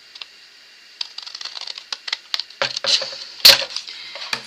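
Scissors snip through a sheet of 12x12 cardstock, a run of short crisp cuts and paper rustles that grows busier and louder toward the end, with no voices over it.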